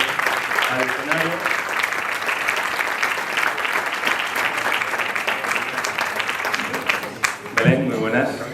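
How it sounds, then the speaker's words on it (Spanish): Sustained, enthusiastic applause from a seated audience at a talk on women's cycling, dense clapping filling the room for several seconds, with a few voices and a short pause near the end. "Belén Esteban, para la que pido un fuerte aplauso"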